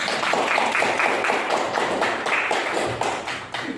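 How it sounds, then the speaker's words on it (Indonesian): A room of people at a group presentation session applauds, a dense continuous patter of many hands clapping at close range, steady and fairly loud for several seconds before thinning slightly at the end. "kita beri aplaus kepada kelompok 1"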